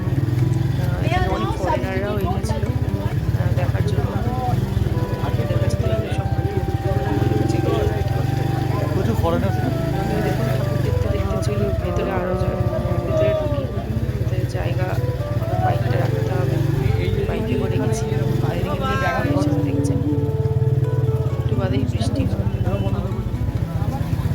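A motorcycle engine hums steadily in the background while riding, a person talking over it almost continuously, with passing traffic noise nearby.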